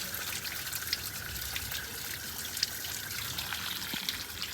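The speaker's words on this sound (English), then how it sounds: "You can see there's a bit of water coming out down the bottom there." Water trickles out of the bottom of a unit being flushed through with a hose, a faint continuous trickling and splashing close by with no talk.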